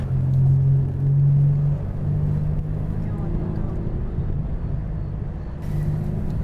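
A Mazda 6 laps Mazda Raceway Laguna Seca during a 2014 TUDOR United SportsCar Championship event, its engine a steady, loud low drone from inside the cabin that holds a sustained tone throughout.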